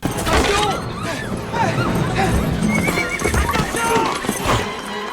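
In the film Final Destination 3, hooves clatter rapidly as a horse gallops close by, and several loud neighs and whinnies ring out over the rhythmic clip-clop.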